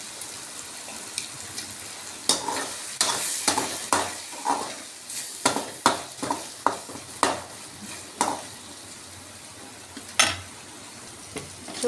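Mushrooms fry with turmeric in a pan, a quiet steady sizzle punctuated by a dozen or so sharp spoon scrapes and knocks against the pan, close and uneven in rhythm.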